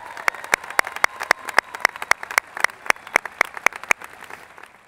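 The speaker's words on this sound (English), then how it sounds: "Please applaud the efforts and accomplishments of these students." Scattered, sparse hand claps ring out in an auditorium at the Shawnee Mission East High School graduation ceremony, a few dozen distinct claps forming a light, uneven round of applause that fades after about four seconds.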